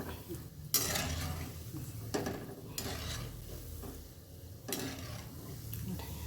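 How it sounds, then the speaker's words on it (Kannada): Shankarpali frying in hot oil in a home kitchen, a continuous sizzle broken by several loud scraping stirs of a metal utensil against the pan. "ಎಷ್ಟು ಚೆನ್ನಾಗಿ ಗೋಲ್ಡನ್ ಬ್ರೌನಿಷ್ ಕಲರ್ ಬರೋವರೆಗೂ ಕರ್ಕೊ"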